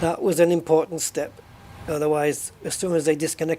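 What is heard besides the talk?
No everyday noises stand out.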